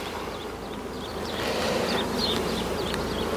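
Honeybees flying around a beehive in full sunshine, a dense continuous buzzing swarm close by with individual bees whining past, growing slightly louder.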